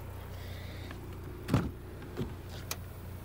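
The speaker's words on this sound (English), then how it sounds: "Of course, you have power windows, mirrors, and locks." Power windows on a Chevrolet Cruze run briefly in a quiet car interior, with a short motor whir near 1.5 seconds and a smaller one around 2.2 seconds against a low steady hum.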